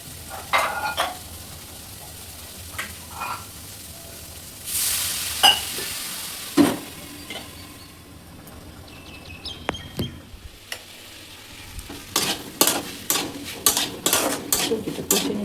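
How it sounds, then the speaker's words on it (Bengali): Vegetables sauté in a pan with a constant hiss of frying, broken by scattered spatula knocks and scrapes that grow into quick, rhythmic stirring strokes near the end. "সবজিটা কষে নিচ্ছি"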